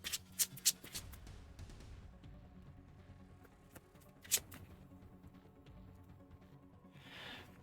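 A deck of game cards being shuffled during a Legendary Buffy deck-building card game: several quick riffling bursts near the start and another around the middle, with soft handling and rustling in between, close and quiet with no talk.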